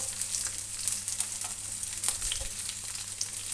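Square-cut onion sizzles steadily in a hot pan with garlic and ginger while being stirred for chilli gobi, with close crackling, frying hiss and occasional utensil scrapes.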